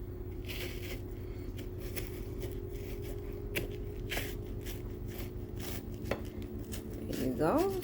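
Knife slicing the rind off a big watermelon, a series of short scraping cuts and soft knocks over a steady low background hum, fairly close.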